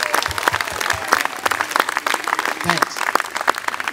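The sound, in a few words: audience applause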